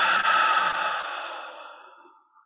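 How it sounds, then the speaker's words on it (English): A person exhaling slowly through a breathing exercise, one long airy breath out close to the microphone that starts strong and fades gradually to silence. "Inhale. And exhale."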